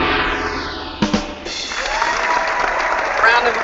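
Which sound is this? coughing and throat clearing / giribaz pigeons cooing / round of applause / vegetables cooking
round of applause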